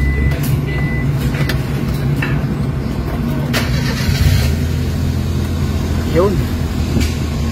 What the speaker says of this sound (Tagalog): so ngayon guys, pinandara natin yung makina